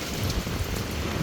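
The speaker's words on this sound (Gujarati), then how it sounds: "રાજકોટમાં વરસાદ પડી રહ્યો છે." Heavy monsoon rain pours down in Rajkot during a windy storm, a dense, loud, continuous hiss and patter of drops on surfaces with no voices.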